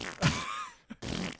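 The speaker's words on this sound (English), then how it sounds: "like fart sound drops" A comedic fart sound drop played as a short, loud buzzy blast that trails off, then a brief pause before another burst of noisy sound.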